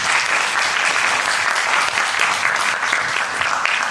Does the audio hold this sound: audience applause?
yes